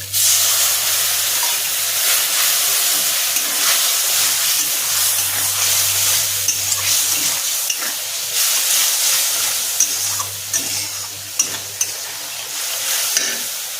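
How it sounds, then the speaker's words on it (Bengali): Water poured into frying mustard paste masala for a Bengali rupchand fish curry sets off a loud, continuous hissing sizzle that holds steady throughout, with faint clinks of stirring and a low background hum. "আমি এর মধ্যে জল দিয়ে দিচ্ছি"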